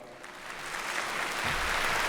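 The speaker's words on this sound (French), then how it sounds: "il y avait tellement d'applaudissements" Applause from an audience at a diocesan jubilee celebration, a dense, steady wash of clapping that builds slightly and continues throughout, no voices over it.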